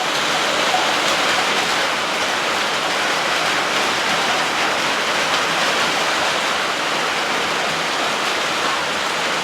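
Heavy rain pouring down during a rainy season by a river, a dense, loud, unbroken roar of water that stays steady throughout with no voices.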